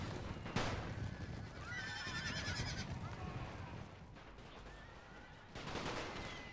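Cavalry horses whinny loudly during a WWI battle in The Great War: Total War mod, with shrill neighs rising over distant rattling gunfire and rumbling combat noise.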